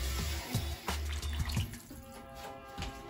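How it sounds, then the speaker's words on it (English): Water poured from a tap into cooking food that is drying out, running in a few short splashing bursts with brief pauses between, close and fairly quiet, no talk. "So I think I'm gonna add just a little bit of water."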